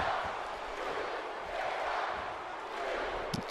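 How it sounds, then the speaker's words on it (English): Crowd in the WWE 2K17 wrestling video game roars as a steady, dense wall of cheering noise throughout, loud and continuous with no break, a faint thump near the end. "Fans are cheering on. The fans are on their feet for the New Day."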